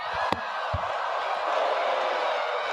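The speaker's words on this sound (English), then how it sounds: "The crowd is so into this" A wrestling arena crowd cheers in a steady, dense roar, with a couple of sharp thuds near the start cutting through the sustained noise.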